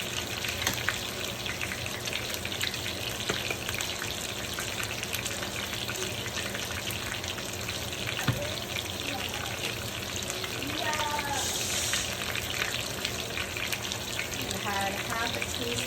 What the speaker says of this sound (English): I'm gonna saute these up for just a few minutes